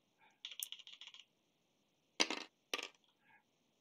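Dice rattling and clattering inside a box during a tabletop wargame, several quick clicking bursts, a pause, then two sharper tumbling rattles, close and fairly quiet with no voices.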